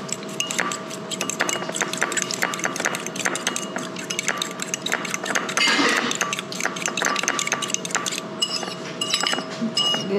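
Ingredients for cooking sand fleas (mole crabs) being mixed in a bowl, a fast, continuous run of clinking and scraping utensil strikes against the dish, close and fairly loud, with no talking.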